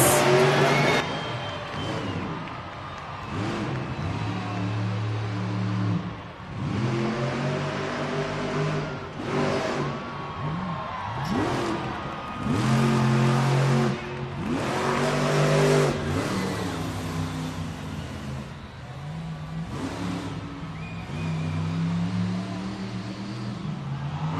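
Monster truck engine roars and revs repeatedly in an arena after a backflip, loud and sustained with rising and falling throttle bursts over a crowd-filled background.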